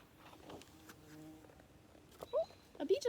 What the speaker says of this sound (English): A bee just flew by.